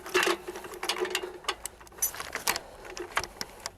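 Extractor being lifted while loading an M2 Browning .50 cal machine gun: a close, quick series of metallic clicks, clacks and rattles from the mechanism, with no speech.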